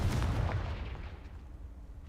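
A Confringo spell fires in the Hogwarts Legacy video game, giving one booming, explosive blast that fades over about two seconds.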